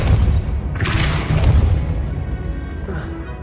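Casting the Depulso spell in the Hogwarts Legacy video game gives a sharp whooshing burst followed by a booming impact and rumbling, with a softer magical shimmer near the end.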